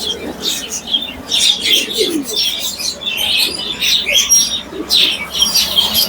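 Caged birds at a busy bird market, with pigeons cooing low beneath repeated bright chirps and short squawks that come in bursts, close and fairly loud.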